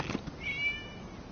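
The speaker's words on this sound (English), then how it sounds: "It was just a cat." A cat meows once in Genshin Impact, a short clear mew at moderate volume with no talk over it.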